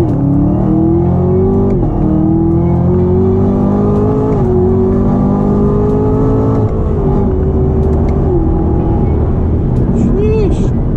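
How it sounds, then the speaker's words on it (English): A 2019 Chevrolet Camaro ZL1 1LE with an automatic in manual mode pulls away from a standstill, its engine droning loud and steady, rising in pitch through long stretches and dipping briefly at each upshift. "So the first gear's kicking."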